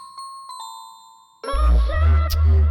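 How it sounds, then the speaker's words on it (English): Bright bell tones ring in an electronic music track, first a few sparse chimes alone, then a loud bouncy beat with heavy bass kicks under the repeating bell melody. "The bells, dude, those bells are great."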